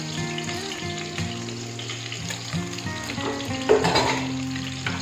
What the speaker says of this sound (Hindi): उसके बाद मैं इसमें पचफोरन डालूंगी।